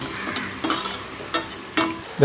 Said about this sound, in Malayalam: കുറച്ച് അണ്ടിപ്പരിപ്പ് ഇതിൽ വറുത്ത് പോരണം